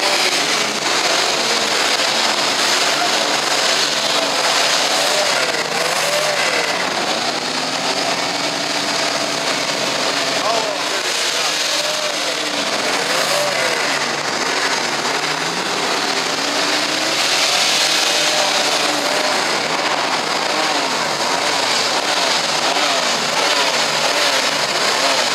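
Ford Mustang V8 engines rev at a 50th-anniversary Mustang gathering in São Paulo, a loud continuous roar with rising and falling pitch.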